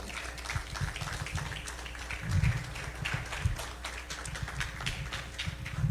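Church congregation applauding to welcome a pastor, a steady patter of many hands clapping, moderately distant, with occasional louder thumps.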